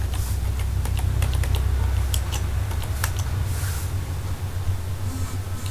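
Keys tap on a computer keyboard as a mobile number is typed in, a run of quick, light clicks over a steady low hum, with no voices.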